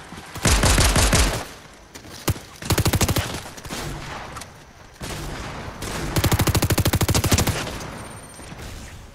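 Rapid automatic gunfire in Fortnite, several loud bursts of repeated shots separated by short pauses, close and dominant with little talk.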